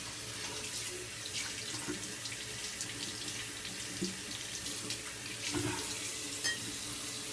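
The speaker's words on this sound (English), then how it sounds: "Let me just rinse off." Water running steadily from a bathroom tap into a sink while someone rinses off after a shave, a faint, even splashing stream with small bursts as hands move through it.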